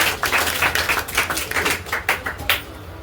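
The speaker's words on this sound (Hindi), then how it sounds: "वह जोरदार तालियां हो जाए।" Audience applause at a Class 10 topper awards celebration, with a cluster of irregular claps forming a close, steady patter that swells in bursts and continues throughout.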